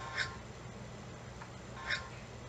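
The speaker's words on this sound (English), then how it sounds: "doing the same thing in the pause menu gets you this" Two short, soft electronic blips from switching video game pause menus, about a second and a half apart, with a faint hum in the background.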